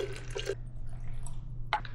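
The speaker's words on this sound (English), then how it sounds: "The instructions on the bottle say to first add 500 milliliters of water to this container." Tap water poured into a plastic container while mixing a homemade energy gel: a few close, splashy bursts of liquid, then a quieter trickle over a low steady hum, with no voices.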